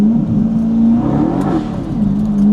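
A modified Chevrolet Corvette C8 with aftermarket exhaust and tune revs and burbles steadily at close range, a deep droning tone rising and falling with a brief crackle midway.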